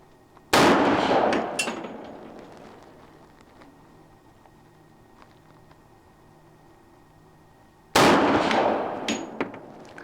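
Two loud, sharp pistol reports from a Colt Gold Cup National Match, one near the start and one near the end, each followed by a short ringing decay, with a quiet gap of ambience between them.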